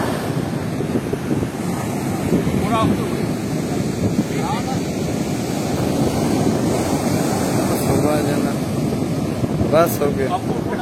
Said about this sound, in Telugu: చూసారా ఎంత రఫ్ గా ఉందో సీ